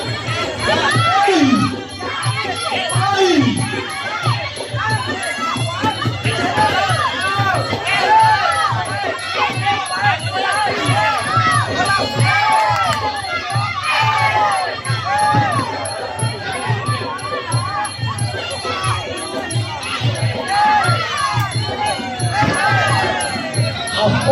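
A dense, roaring crowd of spectators cheers and shouts without pause at a Muay Thai boxing match at a festival, and an excited commentator talks over the noise throughout.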